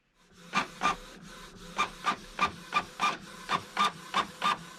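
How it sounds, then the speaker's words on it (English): A home printer runs off bottle labels for homemade gin-infused hard apple cider, giving about eleven rhythmic mechanical feed-and-print passes in short bursts, close and fairly loud with no talking. "I just need to print these off."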